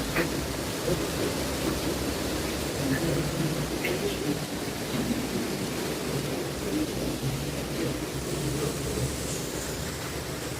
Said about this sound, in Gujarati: બરોબરનો વરસાદ પડે.